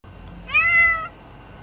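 A single clear cat meow, close and fairly loud, rising and falling over about half a second against a quiet background.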